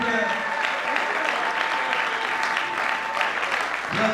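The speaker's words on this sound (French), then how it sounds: "Vos acclamations, s'il vous plaît." A crowd at a political party rally cheers and claps in a steady, dense wash of applause. The noise holds at a constant level throughout, with voices mixed into the roar.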